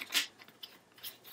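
Scissors trim paper for a mini album cover, giving about three quiet, crisp snips spaced through a short, otherwise hushed moment with no talking.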